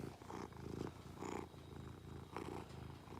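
A cat purrs in a soft, rhythmic rumble of repeated inhale-exhale cycles, very close but quiet, with no other sounds.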